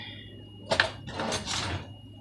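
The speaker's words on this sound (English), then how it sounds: "I am going to get a different spoon" Someone fetches a different spoon in a quiet room: a sharp clunk of a drawer or utensils, then a short sliding rattle of metal, close and brief, with no talking.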